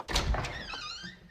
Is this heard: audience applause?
no